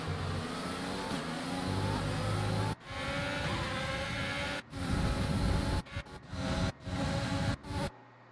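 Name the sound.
racing car engine in a video game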